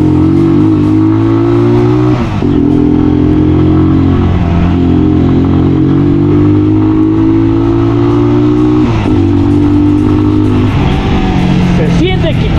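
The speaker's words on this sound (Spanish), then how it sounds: "Se siente que corre la motocicleta" A 2021 ICS Rider 150 motorcycle engine runs loudly and close, revving up and dropping back several times in a steady rising-and-falling pattern, with a voice faintly underneath.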